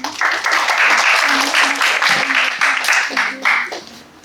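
An audience at a student ideathon event gives a sustained round of applause, steady and fairly loud, with a few voices murmuring underneath.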